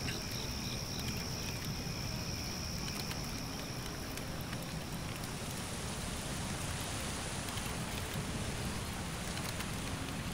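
Steady rain falls in the Circle of Kerzoven video game, a dense, even patter and hiss that runs unbroken for the whole stretch, with a faint high insect-like whine above it and no voices.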